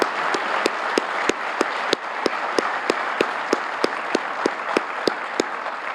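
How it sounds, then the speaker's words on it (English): Steady audience applause at an awards ceremony for law enforcement, dense clapping filling the whole stretch at an even level, with a few sharper individual claps standing out. "Let's give them a big round of applause."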